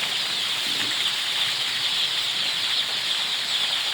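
Chickens in a poultry house make a constant dense hiss of rustling and faint clucking, steady throughout with no talk.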